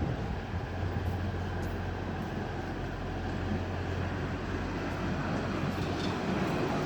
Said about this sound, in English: So they've got another Sisters tram coming in.